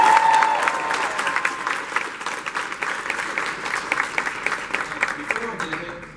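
Audience applause and cheering at a tenth-anniversary celebration event, a dense burst of clapping that starts loud and slowly thins over several seconds, close and lively.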